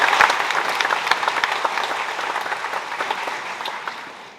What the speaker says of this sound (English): Can we please get another round of applause for her?